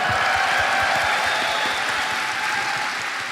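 A convention crowd at TennoCon applauds, a dense and steady wash of clapping that fills the whole stretch and fades slightly near the end.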